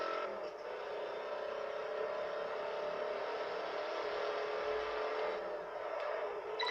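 A Ford Mustang engine in the racing game Test Drive Unlimited 2 drones in a steady, faint whine, holding a sustained note with slight swells as the car races along.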